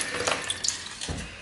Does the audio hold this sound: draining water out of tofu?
yes